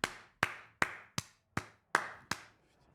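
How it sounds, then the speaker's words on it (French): Seven slow, evenly spaced claps from a single person, close and sharp, each crack ringing briefly before the next, then silence. "Allez, là, maintenant, ouais, on applaudit."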